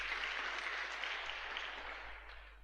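Church congregation applauding together in sustained, fairly faint clapping that fades slightly toward the end, with no voices over it.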